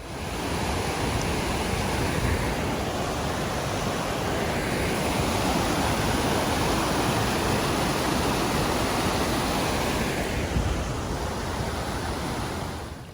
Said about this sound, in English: That pipe comes straight out of the creek and straight into this sort of bathtub cum drinking fountain.